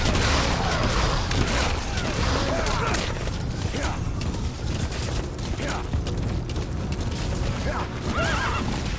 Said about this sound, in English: I'm on my horse now.